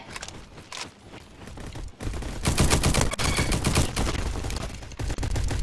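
Gunfire from a video game comes in dense, rapid bursts, loud and nearly continuous, with a brief lull before heavier volleys resume.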